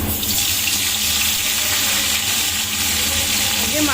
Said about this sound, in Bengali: এবার দিয়ে দিই, মাছটা একটু ভেজে নিই।